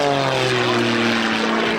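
Propeller aircraft flying aerobatics at an airshow drones loudly and steadily throughout, a close, continuous engine and propeller roar with no voices.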